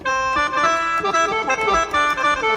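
A reedy, droning khaen mouth-organ sample from a Yamaha PSR-S670 keyboard, several notes sustained together in a continuous chordal texture with a lively pulsing rhythm.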